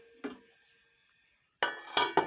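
Lid set onto a cooking pot of chicken curry, a faint clink first, then a metallic clatter of two or three quick rattling knocks as it settles, close and alone.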